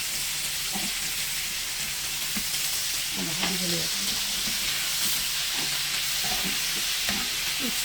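Salmon fillets grill in a pan with a loud, steady crackling sizzle and hiss throughout, plus occasional soft clicks and faint background voices.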